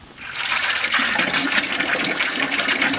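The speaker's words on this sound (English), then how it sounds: "I'll fill the hose with water." Water gushing through a pressure washer hose being filled to flush out air, a loud, steady broadband rush that swells in within the first half second and continues unbroken, close up, with no talk.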